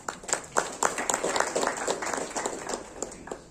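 An indoor audience in a hall at a World Malaria Day state function claps steadily, a dense patter of hand claps lasting a few seconds with faint voices underneath.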